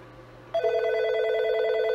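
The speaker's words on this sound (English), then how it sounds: "And it's now ringing on this phone" A desk telephone starts ringing after a call to a hotdesked extension, its electronic ring tone switching on abruptly and holding steady, close and clear, with no talk over it.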